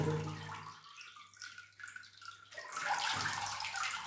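Water trickles and drips off freshly watered orchid roots indoors, a close splashing patter that eases off midway and then picks up again, with no voices.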